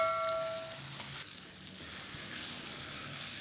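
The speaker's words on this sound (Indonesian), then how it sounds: "Ini kita sangrai untuk dijadikan serundeng ya" Grated coconut dry-roasts in a pan for serundeng, giving a soft, steady crackle and sizzle with a few faint scrapes, quiet and close, with no voices.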